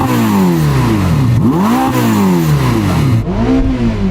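A car engine revs hard and loud to 8,000 RPM, pitch sweeping up and down through several climbs, close and alone without talk.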